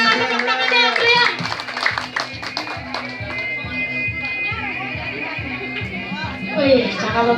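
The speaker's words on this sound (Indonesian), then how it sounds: "Coba kita tepuk tangan ya, Pria." Outdoors at a Betawi silat martial-arts demonstration, scattered hand claps ring out in uneven bursts amid lively chatter and children's voices, fairly close and mixed under ongoing talk.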